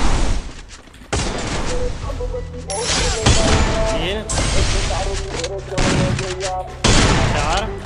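Rapid gunfire bursts and heavy shots in the mobile shooter Garena Free Fire during a ranked match, loud and nearly continuous across the clip, with excited voices talking over the shooting.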